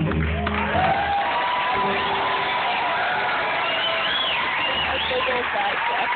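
A concert audience applauds and cheers in welcome, with whoops and shouts layered over steady clapping, loud and continuous throughout, with some voices mixed in.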